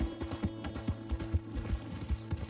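Galloping horse hooves in Red Dead Redemption 2 pound out a fast, steady rhythm, close and prominent, with creaking tack and a faint hum underneath and no talking.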